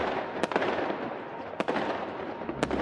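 A fireworks display pops off sharp, loud bursts, three distinct cracks spaced about a second apart over a continuous hiss and rumble of crackling.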